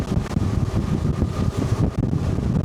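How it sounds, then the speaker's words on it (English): Wind buffets the flybridge of a Beneteau Antares 12 motor boat under way, a loud continuous gusting rush with a low engine drone beneath it. "Lots of wind up here."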